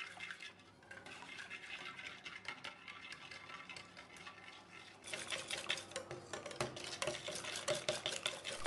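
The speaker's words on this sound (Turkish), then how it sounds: "Unun tamamını ilave ettikten sonra 5 dakika boyunca güzelce çırptım." Flour being whisked into batter in a bowl, rapid scraping and tapping strokes close by that grow louder and busier partway through, with no talking.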